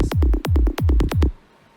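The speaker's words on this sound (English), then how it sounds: "a separate layer of a bit crush bass" A high-passed, bit-crushed psytrance bass layer pans left and right, striking in a quick, loud rhythmic sequence of downward-sweeping hits before cutting out to quiet.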